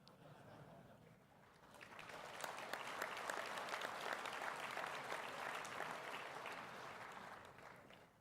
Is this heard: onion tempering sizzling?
no